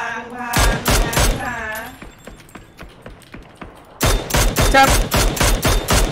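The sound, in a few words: gunfire in the video game PUBG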